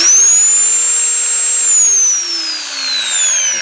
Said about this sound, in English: Just thought you might be interested in my old drill